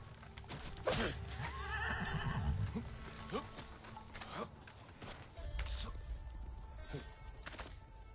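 A horse in the video game Ghost of Tsushima gives a loud whinny, with hoof clip-clops and game effects around it and faint background sounds, no one speaking over it.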